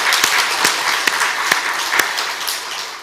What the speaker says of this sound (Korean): 우리 영광의 박수 한번 하십시다.